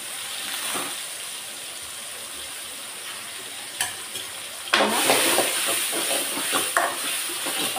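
Ground paste of pepper, cumin, garlic, curry leaves, tomato and green chilli hitting hot oil, a soft sizzle that bursts louder midway with stirring scrapes, close and steady without talking.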